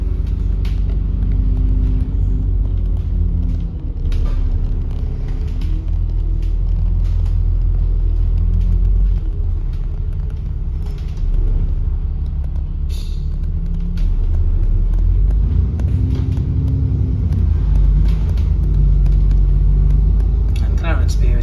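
A Park and Ride bus on the run from Hilsea toward Clarence Pier gives a steady, loud, deep engine rumble from close by, swelling slightly at moments and never letting up across the whole stretch, with someone talking over it at times.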